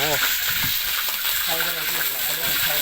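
Fried eggs sizzle in a pan with a loud, continuous crackling hiss up close, while a voice talks over the frying.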